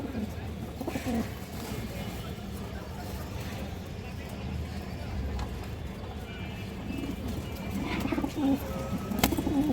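A pair of zero-neck pigeons coo softly and repeatedly among other pigeons, with hooflike clip-clop knocks and people talking nearby throughout.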